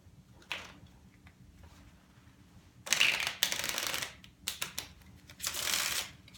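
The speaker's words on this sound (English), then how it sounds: "And 1 more shuffle." Several bursts of a tarot card deck being riffled and bridged, crisp fluttering rattles with short pauses between, close up and without talk.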